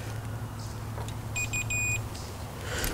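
Continuity tester probing a Journey arcade monitor chassis, giving a short series of three clipped high-pitched electronic beeps in the middle, over a steady low hum and faint background noise.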